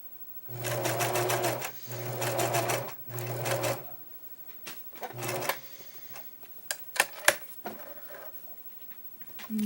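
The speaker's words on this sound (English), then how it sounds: "You're just going to slowly sew your stay stitching in." A sewing machine slowly sews stay stitching on a Totoro cosplay dress in four short whirring bursts, followed by quieter clicks and handling noises.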